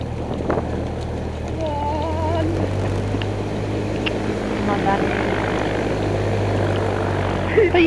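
Propeller airplane engine drones steadily on a first solo flight, a continuous loud hum throughout with faint voices in the background.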